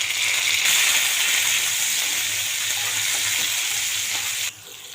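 Chopped garlic, green chili, coriander and jaggery fry in hot oil in a pan for tomato paratha, giving a loud, steady close-up sizzle that drops noticeably near the end.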